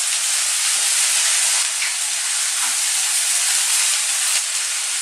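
Chicken and couscous heat in a pan with a steady, loud hiss and sizzle that continues unbroken at close range.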